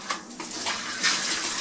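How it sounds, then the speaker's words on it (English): Water rushing into a newly installed clothes washer on a small cold-water load, a steady splashing flow with slight surges, close and fairly loud. "Okay, we got water coming in."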